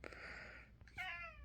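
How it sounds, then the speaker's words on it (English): Two faint meows from cats asking for food, in quick succession, a drawn-out cry followed by a sharper, rising one, heard up close in a quiet room. "The boys just meow until I feed them."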